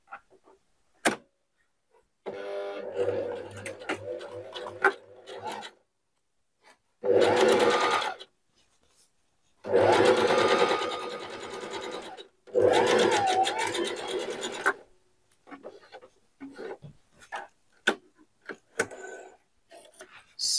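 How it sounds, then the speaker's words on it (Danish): A sewing machine stitching the centre band of a bucket hat with polyester thread runs in several short, close bursts of rapid whirring, separated by quiet gaps with small handling clicks and soft talk. "Det her midterbånd, det skal vi have syet sammen ret mod ret i den her lige søm, og jeg syer med en centimeters sømrum."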